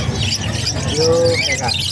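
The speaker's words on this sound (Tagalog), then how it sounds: "ang daming ibon dito kay Boss Marvin." Birds kept at a bird farm chirp and call in short bursts, one clear whistled note standing out over a busy background murmur.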